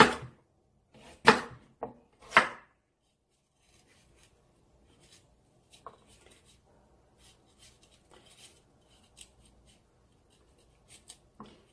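Knife cutting and trimming the corners of radish pieces into rounded bite-size chunks for Korean braised short ribs (LA galbijjim), a few close crisp chopping strokes at first, then faint scraping and rubbing on a cutting board.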